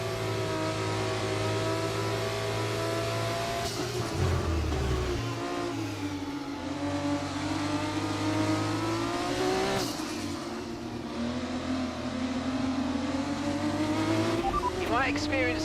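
Formula 1 race car engines in the F1 24 racing game at a home Grand Prix, droning loudly and steadily with rising and falling revs as cars run close together, under game commentary.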